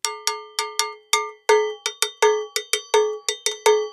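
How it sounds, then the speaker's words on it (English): A Latin percussion cowbell struck with a small stick rings out in about fifteen sharp, metallic clanks at an uneven rhythm, close and clear with no talking. "So that's your cowbell that comes in this set"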